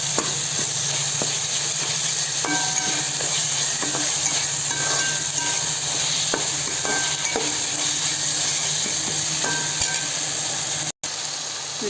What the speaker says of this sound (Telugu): ఒక నిమిషం పాటు బాగా ఈ నూనెలోనే ఉడకాలన్నమాట